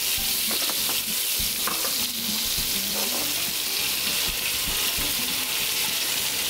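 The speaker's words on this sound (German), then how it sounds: "die Zwiebeln und das Speck schön glasig anbraten." Diced bacon and onions fry in a pan with a loud, continuous sizzle, broken by occasional scraping and stirring sounds.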